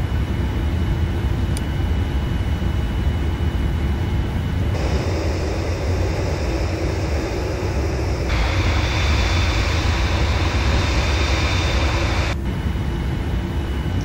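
United 787-9 airliner taxiing in the Prepar3D flight simulator, a steady, loud broadband engine rumble and hiss that holds throughout, with tonal whine layers switching in and out partway, no talking.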